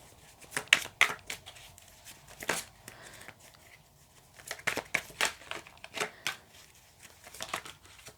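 Tarot cards being shuffled by hand in irregular bursts of papery riffles and flicks, moderately close, with quiet gaps between and no talking.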